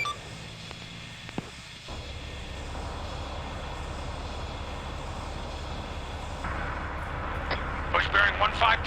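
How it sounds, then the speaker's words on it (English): A helicopter sets down at a landing zone for a squad pickup in a military video game, its steady low engine and rotor drone running continuously beneath radio chatter, with beeps and clicks near the end. "That fucking helicopter's already here to pick us up."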